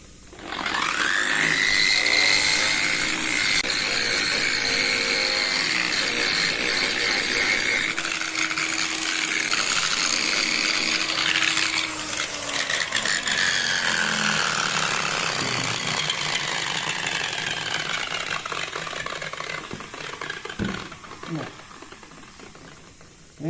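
Sanding a polished Calatorao marble sphere with 60-grit sandpaper produces a loud, continuous abrasive grinding roar that holds steady for most of the stretch, then eases and thins toward the end.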